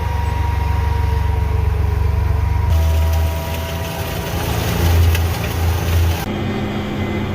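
A 370 horsepower tractor pulling a 24-row planter across a field, a loud, steady low engine drone with a strong rumble and shifting tonal hum, no voices.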